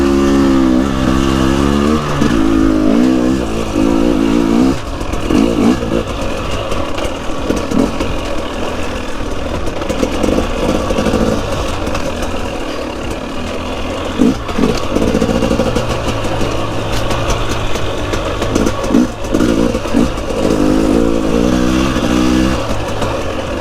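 A 2023 KTM 250 XCW two-stroke dirt bike is ridden along sandy single track, its engine loud and close, rising and falling with repeated revs and throttle changes and no pause.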